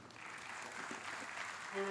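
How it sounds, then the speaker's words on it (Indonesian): An audience at an Indonesian Perindo party convention claps in steady, dense applause that fills the whole stretch, moderately loud with a faint voice over it. "Boleh tepuk tangan yang meriah sekali lagi para hadirin"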